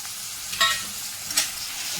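Tomato and masala sautéing with fenugreek greens in a pan, a soft sizzle with two brief scraping stirs of a spatula, close and alone.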